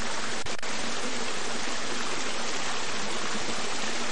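Calna Creek flowing beside a bush walking track among rock walls and boulders, a steady close rush of running water with no voices.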